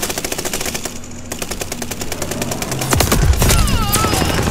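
Automatic gunfire from the video game Call of Duty: Vanguard rattles in rapid, steady bursts throughout, with a heavier burst of nearby shots toward the end over ongoing game sound.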